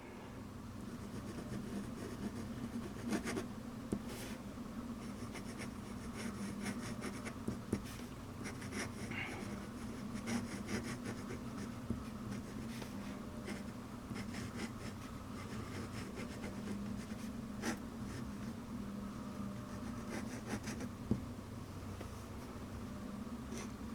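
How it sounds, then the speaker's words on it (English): A Jinhao 911 extra-fine fountain pen inked with Noodler's Polar Krill scratches across 20-pound copy paper, faint, close strokes and soft taps in an uneven writing rhythm over quiet room hum. "Now I'm going to do just a pretty quick little writing sample."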